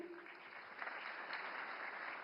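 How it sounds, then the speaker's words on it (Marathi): Audience applause at a Marathi literary conference in a large hall, a steady wash of clapping sustained at moderate level throughout without pause. "शमीमा अख्तरसाठी पुन्हा एकदा जोरदार टाळ्यांचा गजर करूया"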